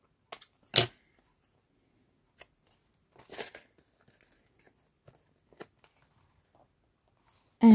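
Scissors snipping paper while making an envelope journal with tab binding, a few sharp isolated cuts separated by quiet gaps, close and fairly soft, with small handling rustles between.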